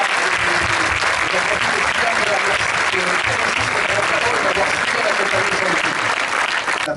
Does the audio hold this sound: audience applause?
yes